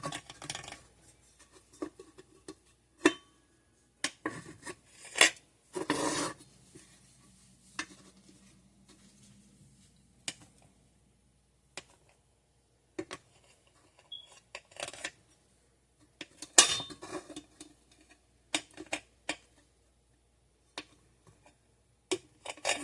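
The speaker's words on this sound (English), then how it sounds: "I'm going to cut this down the middle as well" Kunafa pastry being cut into blocks with a knife on a board, producing sparse sharp taps and short crunchy scrapes separated by near-silence.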